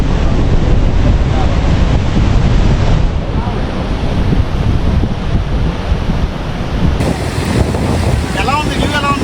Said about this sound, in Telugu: వాటర్ఫాల్